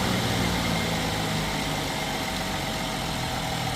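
A 2025 Ram RHO 1500 pickup engine idles after a jump start, a steady loud rumbling drone with constant vibration close by.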